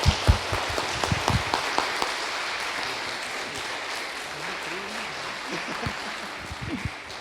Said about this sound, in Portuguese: Quero que tu dê uma melhor salva de palmas para Jesus nesse momento.